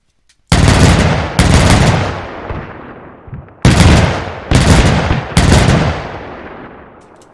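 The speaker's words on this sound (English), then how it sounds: "but the gun does work" Gunfire from a WW2 vehicle-mounted gun in Arma 3's IFA3 mod: five loud, heavy booming shots in two groups, each followed by a long rumbling decay, with no talk.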